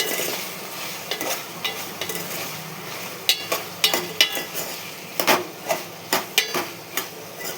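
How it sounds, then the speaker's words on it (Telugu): Tomato, drumstick and okra pieces stirred in a pan with a little oil, giving a soft sizzle under repeated scraping and knocking of a spoon against the pan in an uneven rhythm, close by with no talking. "ములక్కాయ, బెండకాయ ముక్కలు ఇందులో వేసుకొని బాగా కలపాలి"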